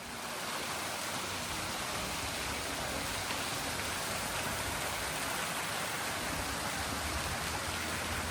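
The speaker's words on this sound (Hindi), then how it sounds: "यहाँ का वाटरफॉल है" A waterfall on Tenerife in the Canary Islands, near banana plantations, gives a steady, dense rush of falling water, like heavy rain, constant and fairly loud throughout with no voices.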